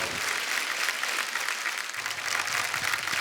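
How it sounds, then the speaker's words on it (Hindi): Studio audience applause on a comedy talk show, a fairly faint, continuous wash of many hands clapping together. "बादशाह बाजी के लिए जोरदार तालियां"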